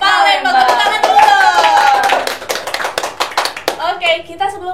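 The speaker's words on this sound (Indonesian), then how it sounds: "Tepuk tangan dulu." A group of high school students and guests claps hands at a school extracurricular event, a lively burst that breaks into scattered claps while a presenter's voice runs over it.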